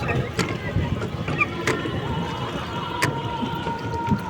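A boat moves across the sea at Digha, with steady water wash and engine rumble, a few sharp knocks and splashes, and a broad noisy background throughout.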